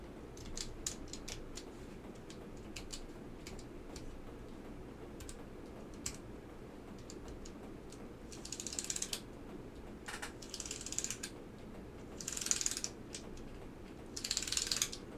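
Keys on a Hippo TKL mechanical keyboard are pressed one after another in a key tester, giving faint, close, irregular clicks and clacks with short rapid bursts.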